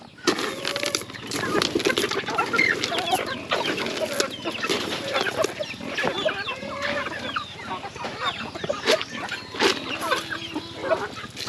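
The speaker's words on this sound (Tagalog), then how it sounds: "sobrang kaunti lang itong manok natin ngayon dito" Chickens cluck steadily and close by on a farm, with overlapping calls and scratchy poultry chatter filling the whole stretch. A faint voice can be heard underneath.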